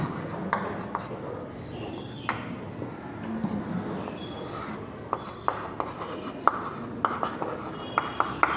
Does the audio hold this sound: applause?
no